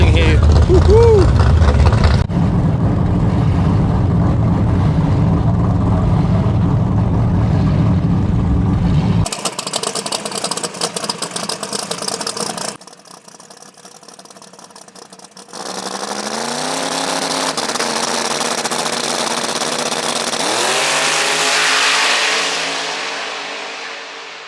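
Drag race cars on 275 tires at a street-style shootout event, engines revving hard and roaring past in loud bursts, with the sound shifting between segments and a long rising acceleration toward the end.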